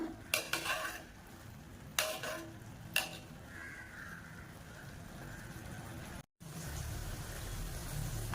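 Jeera coconut rice being stirred in a pot, a spoon scraping and clinking against the metal in a few distinct knocks early on, followed by a soft steady rustle of the grains.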